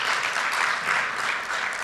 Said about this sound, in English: let's give a round of applause for that presentation by Tanya.